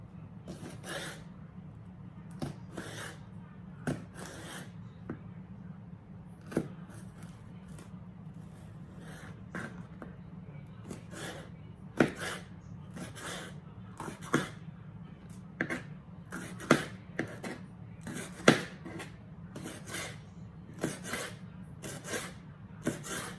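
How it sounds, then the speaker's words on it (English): A knife slicing food into thin fajita-style strips on a cutting board in a home kitchen, with steady, evenly spaced sharp cutting taps and soft scraping strokes repeating over a low background hum. "We'll cut them up in little thin strips."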